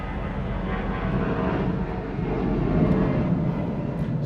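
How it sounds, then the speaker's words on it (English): A jet airplane taking off near San Diego airport roars overhead, a loud sustained rumbling drone that swells slightly toward the end and fills the whole stretch. "It's actually a plane taking off."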